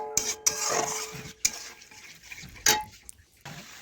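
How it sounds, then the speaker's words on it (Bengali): A spoon stirs sour yogurt into cauliflower masala in a pan, producing soft wet scraping with a few sharp clanks of utensil on metal and a faint sizzle beneath, no talking. "এই দেখুন, এইভাবে নাড়াচাড়া করে টক দই ভালোভাবে মিশিয়ে একটু কষিয়ে নিচ্ছি।"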